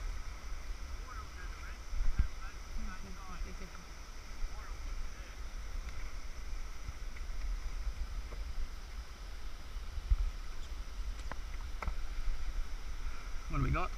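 A boat being paddled down the Nymboida River rapids, with steady rushing water and wind noise throughout and occasional splashes and knocks of paddle strokes, no voices.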